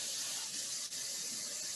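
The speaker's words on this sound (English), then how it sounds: "when you start spraying, you need to start spraying off of the piece that you're doing just to make sure that you're getting a good spray" A paint spray gun hisses in a steady test spray off to the side of a wood-turned piece, broad continuous airy noise with one brief dip midway and no talk.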